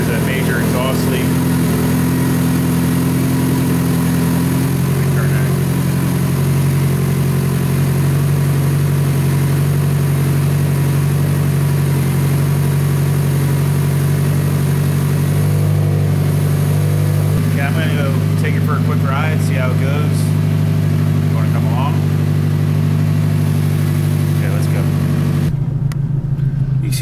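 A Toyota Camry with a major exhaust leak idles in a garage near operating temperature, a steady loud drone holding throughout under intermittent talk.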